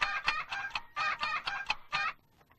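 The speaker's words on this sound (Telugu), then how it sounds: "లండన్ కోడి డైలీ కరెక్ట్ గా 6 గంటలకి కూస్తుంది" A rooster crows in a comedy film scene, several loud, bright bursts of call in quick succession, close and clear, ending in quiet, with no talking over it.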